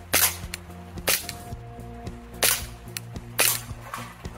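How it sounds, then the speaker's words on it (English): A David-owned Glock 17 Gen 5 airsoft pistol fires several sharp, snappy shots in an uneven rhythm, close and loud, with small mechanical clicks between them and a faint background hum. "Glock 17 Airsoft Gen 5 pistol"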